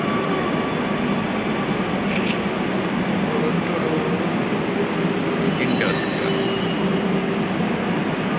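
A metro train runs steadily, a loud continuous rumble of wheels and carriage noise with faint squeals and brief tonal chimes, close and enveloping with no clear talk.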